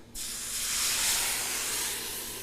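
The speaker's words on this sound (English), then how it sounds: "And now we're steaming." A homemade steamer with a bun on top and water in the holes lets out a loud, continuous steam hiss that swells to a peak and then eases slightly, close and without talk.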